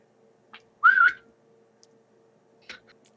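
Someone imitates a wolf whistle with the mouth in a quiet room: one bright, rising then falling whistle of about half a second, set between a few soft clicks, with no talk over it.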